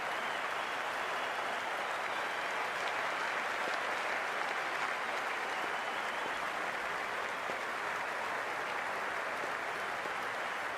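A stadium crowd at a CPL 2024 cricket match between Saint Lucia Kings and Jamaica Tallawahs applauds and cheers in a continuous, even wash of clapping, distant and fairly quiet throughout.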